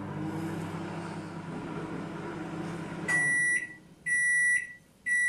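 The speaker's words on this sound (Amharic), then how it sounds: "እኔ አሁን 15 ሰከንድ ማይክሮዌቭ ውስጥ እጨምራለሁ" A microwave oven heating eggs hums steadily for about three seconds, then stops and gives a few loud, close electronic beeps separated by short pauses.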